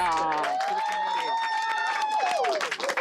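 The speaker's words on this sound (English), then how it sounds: "Can we all give Don Guerra a round of applause?" A crowd applauds baker Don Guerra in Tucson, with clapping running underneath loud, sustained voices cheering and whooping nearby over about three seconds.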